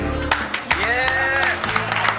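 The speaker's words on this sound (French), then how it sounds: "une bonne main d'applaudissements pour la sensuelle Cindy" Studio audience applause on a French sitcom, scattered claps and a cheer heard beneath a prominent voice and tonal music, brief and somewhat masked.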